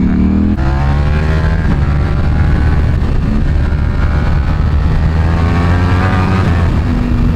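A Honda Grom motorcycle being ridden to school, its small engine droning loudly and steadily at close range with harmonic whine and road rumble, no talking.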